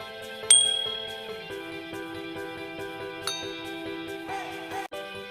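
A single bright notification bell ding rings out near the start, then a second lighter chime follows over steady background music.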